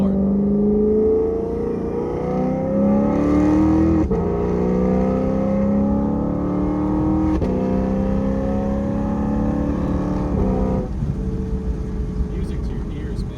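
A Lexus RC F V8 revs hard through a series of upshifts, each climb in pitch broken by a sharp shift cut, loud and close, with a voice talking over the engine.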